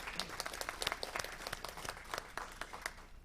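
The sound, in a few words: audience applause at council meeting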